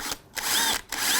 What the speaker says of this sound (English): So I'm not going to drill on my